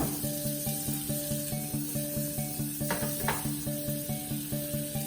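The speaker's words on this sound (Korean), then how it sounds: "나머지 버터를 마저 넣어주시고" Butter sizzling in a pan for soup, a steady soft hiss with faint crackles, heard up close with no talking, under a repeating background tone.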